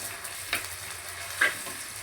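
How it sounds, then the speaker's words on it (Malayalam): Green chilli, ginger, garlic and onion sauté in a pan with a steady broadband sizzle, broken by two brief scraping stirs of a spoon, close and moderately loud, with no talking. "പച്ചമുളക്, ഇഞ്ചി, വെളുത്തുള്ളി, സവാള ഇങ്ങനെ നല്ലോണം മൂപ്പിച്ചെടുക്കാം"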